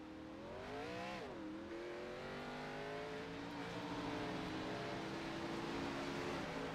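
Race cars in a Roblox stock-car race at Dover pull away from a pit stop, their engines whining and climbing in pitch after a quick dip, a steady faint roar with no voices.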